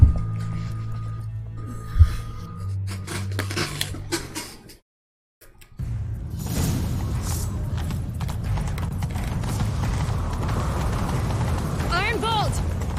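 A horse in The Witcher 3: Wild Hunt gallops after a fleeing man, with loud rhythmic hoofbeats and rumbling movement under voices and background music.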